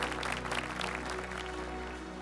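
An audience in an auditorium applauds at a business event, a continuous, fairly faint roll of clapping over a low electrical hum, fading slightly toward the end.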